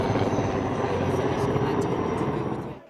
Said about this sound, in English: So there's an army chopper coming overhead?